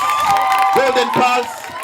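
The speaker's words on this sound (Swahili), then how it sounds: "Makofi ya Golden Pals." A school retreat crowd breaks into cheering and clapping for the team Golden Pals, loud and close, with shouted voices over the applause that briefly rises before tapering off.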